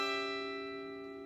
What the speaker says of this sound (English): When you build off of that seventh note, you're going to get a diminished chord.